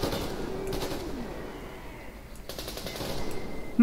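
Bursts of automatic gunfire from a multiplayer match of the video game Metro Exodus, rapid rattling volleys with short pauses between them, fairly close and loud, no talk over it.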